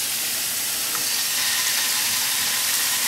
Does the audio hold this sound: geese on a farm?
no